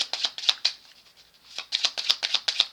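A deck of cards is shuffled close up in two crisp bursts of rapid riffling snaps, separated by a quieter pause in the middle, with no talking.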